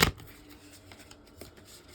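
Tarot cards riffle in one brief, loud burst of shuffling at the start, then only faint soft handling sounds and light taps follow.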